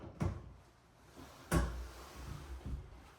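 A six-panel bifold door is fitted into its frame: three separate wooden knocks and bumps spaced out over a few seconds, fairly close and quiet, with no talk.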